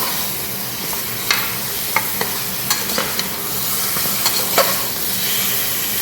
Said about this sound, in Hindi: बस मटन को अच्छा पका लेना।